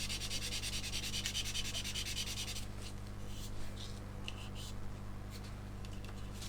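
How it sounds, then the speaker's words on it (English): A coarse sanding stick is rubbed back and forth over scratches on a plastic scale model, giving rapid rhythmic scraping strokes close up, steady at first and then breaking into shorter, intermittent passes. "Now I only want to sand the area where the scratches are, because this is still a relatively coarse sander in modelling terms"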